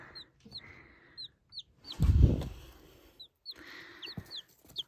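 Wyandotte chickens and small chicks cluck and peep in short repeated calls, with a louder burst of rustling or movement close by partway through.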